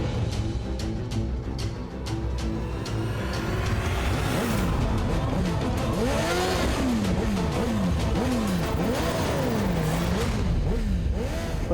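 A motorbike engine revs hard over and over, its pitch sweeping up and down in quick repeated surges, loud and close above a steady low rumble.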